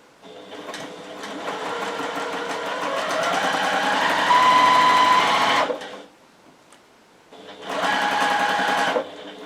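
A sewing machine stitches through several layers of scrappy fabric strips with a 1/8 inch seam, a loud steady whir running for several seconds, stopping briefly, then starting again for a shorter burst.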